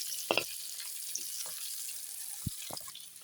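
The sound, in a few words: sautéing and stirring meat in a pan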